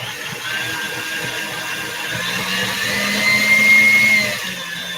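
Electric mixer creaming and beating cake batter made with flour, baking soda and baking powder, a steady whirring motor hum that rises slightly in pitch and loudness toward the end before easing off.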